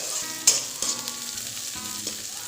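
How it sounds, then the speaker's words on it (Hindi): Onions sizzle and fry in a pan, a steady hiss broken by a few sharp clinks and scrapes as they are stirred, with no talking. "थोड़ा सा प्याज को ब्राउन करना है, बिल्कुल हल्का सा"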